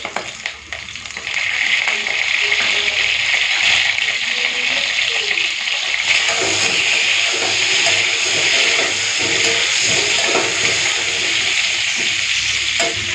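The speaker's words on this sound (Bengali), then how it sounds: "তেলটা গরম হয়ে গেছে, এখন দিয়ে দেবো পটলগুলো।" Whole pointed gourds frying in hot oil with a little salt and turmeric, a loud, steady close-up sizzle and hiss that jumps up as the vegetables go in and then holds evenly.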